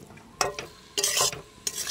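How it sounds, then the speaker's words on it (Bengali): Spice paste for a cabbage and tomato curry fries in a pan, with a few short scraping stirs and bursts of sizzling heard up close, separated by brief quieter pauses. "দেখো মশলাটা ভালো করে কষে নিই"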